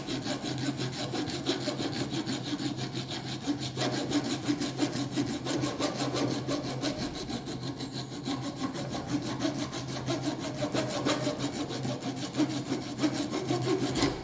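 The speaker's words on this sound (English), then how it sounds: "I'm going to start moving the file up and down to create a nice rounded" A metal hand file is worked up and down along an aluminium edge to round it. It gives steady, close rasping strokes in an even back-and-forth rhythm, with no talking.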